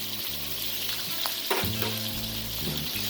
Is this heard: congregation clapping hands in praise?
no